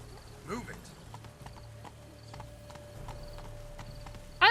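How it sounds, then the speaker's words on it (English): Horse hooves clip-clopping at a steady rhythm in The Witcher 3: Wild Hunt, with a brief whinny and a louder burst near the end over a quiet game ambience with a steady hum. "I love this horse."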